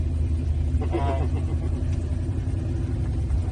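A 1966 Ford GT40 pulling away, its engine a low steady rumble heard from the cockpit, with a brief brighter burst of sound early on.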